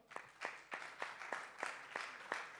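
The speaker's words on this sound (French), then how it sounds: "On l'applaudit bien fort." An audience at a startup pitch event at the West Web Festival claps in steady, evenly spaced beats, soft and somewhat distant, with no talk over it.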